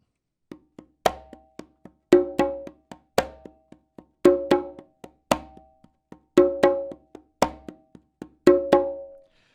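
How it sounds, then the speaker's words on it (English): Congas play a repeating syncopated tumbao pattern alone, with open tones and muted slaps in a steady loop, clear and close. "the tumbao pattern sounds like this. I'm going to play it"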